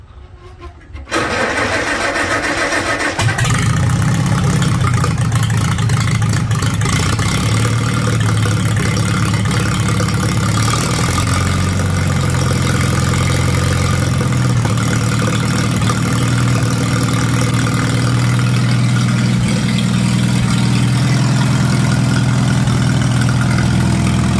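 Farmall tractor engine cranking briefly, then catching without choke at about a third throttle and settling into a loud, steady running drone close by, heard alone.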